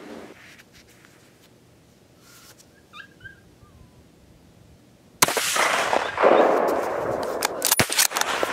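A single sharp gunshot cracks out while hunting, loud and close, breaking a quiet outdoor stretch, then leaves a rough, noisy wash of sound behind it.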